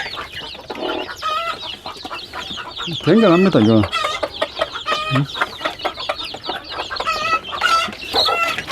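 Free-range chickens, mother hens among them, cluck repeatedly at close range around someone feeding them, with scattered squawks and someone talking over the flock throughout.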